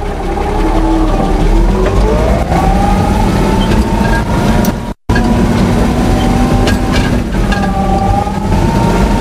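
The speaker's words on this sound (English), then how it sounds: "So let's go for a ride. First gear." A Stridsvagn m/37 light tank crawls along in first gear, its engine droning loud and steady with rising and falling tones and a constant rumble, briefly cut by a short gap midway.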